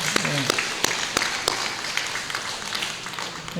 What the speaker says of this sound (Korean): 우리 축하하는 박수로 했습니다.